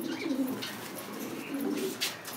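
Pigeons coo in soft, repeated low throaty phrases at a bird market where birds are sold, fairly close and steady, with no talk over them.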